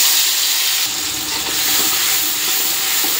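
Ground spice paste of cumin and dried red chilli hits hot oil in a pan for a vegetarian paneer curry, bursting into a loud, steady sizzle with stirring scrapes and a constant hiss throughout.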